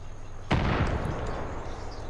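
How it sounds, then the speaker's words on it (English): An explosion in the Far Cry 5 video game bursts suddenly at close range, a loud sharp blast followed by a rumbling decay that lingers for over a second. "Don't worry about explosions, Johnny."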